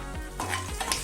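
Fenugreek and cumin seeds hit hot oil in a pan for mint chutney, a brief crackling sizzle with light clinks of a utensil against the pan.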